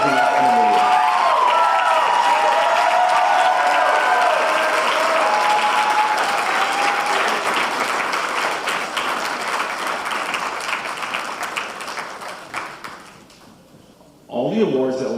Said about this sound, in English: Please give a round of applause for Alicia, Bella, Brianna, Katrina, Izzy, and Amelia